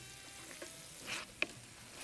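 Artichokes sauté in a pan for an artichoke pasta dish, a soft, faint sizzle with one brief sharp click of a utensil partway through.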